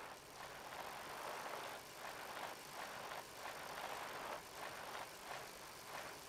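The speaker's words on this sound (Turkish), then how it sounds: "Bisiklet ses veriyor da çok yani" Bicycle riding in the video game PUBG gives a soft, steady whirring rattle with regular pulsing swells, quiet and continuous with no talk over it.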